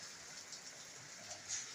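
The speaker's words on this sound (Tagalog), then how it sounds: "Ngayon, umuulan na naman." Rain falls steadily at a wet construction site with a soaked floor, a faint, even hiss with no voices.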